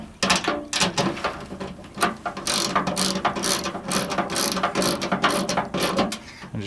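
A hand ratchet tightens bolts on a replacement tailgate handle on a Nissan Frontier pickup, making close, loud, rapid clicking strokes in a steady repeating rhythm, with no talking.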